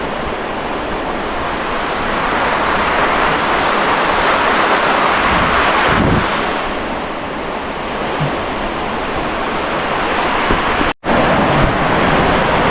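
Strong typhoon wind roars steadily and loudly throughout, a dense rushing noise with gusty swells and a brief cutout near the end.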